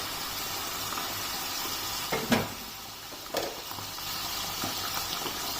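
Minced mutton frying in hot oil in a pan, a steady close sizzle with a couple of brief louder bursts as it is stirred, no one speaking.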